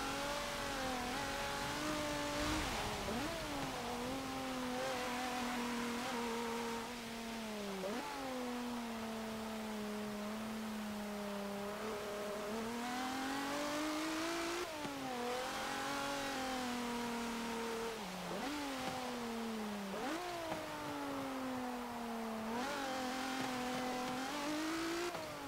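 A 1986 Dodge Shelby Omni GLHS engine in Forza Motorsport 7, revving loud and constant through repeated gear changes, its pitch climbing and dropping at each shift while the car struggles for traction.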